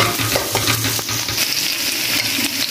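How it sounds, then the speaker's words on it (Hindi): Okra fries in ghee in a pan over a medium flame, a loud, dense sizzle close up with rhythmic stirring scrapes from a spatula in the first half and no talk. "भिंडी को इस तरह से हमने फ्राई करना है इसी घी में"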